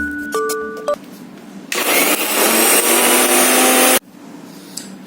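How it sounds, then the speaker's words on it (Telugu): A kitchen mixer grinder blitzes cooled roasted curry leaves for a curry leaf chutney, giving one loud, steady whirring grind of about two seconds that cuts off abruptly, with a few short clicks and beeps before it. "ఇప్పుడు చల్లారిపోయిన ఆ కరివేపాకు చక్కగా 1 సారి 2 సార్లు మిక్సీని బట్టి వేయండి"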